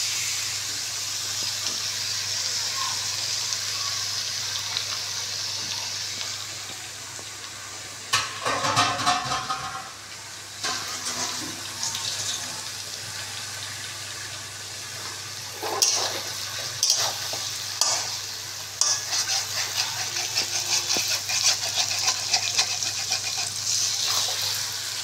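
Chicken meat is tipped into a pan of spices and fried, Bengali kasha style. Steady sizzling and frying go on throughout, with a louder splattering burst and stirring clatter as the meat goes in.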